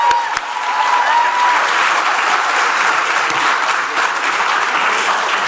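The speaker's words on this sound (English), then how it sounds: "I think that deserves a round of applause." Loud, dense applause fills an awards presentation for outstanding examination results, a sustained wash of many hands clapping at close range with only slight swells.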